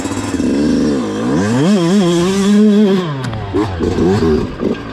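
A Yamaha 125 YZ enduro two-stroke dirt bike revs hard up a hill climb, its loud, close engine pitch rising and wavering through repeated throttle blips before sputtering and clattering near the end.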